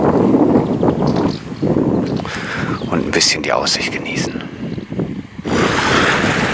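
Gusty wind buffets the microphone at the water's edge on Fehmarn, a rough low rumble running throughout while someone talks over it.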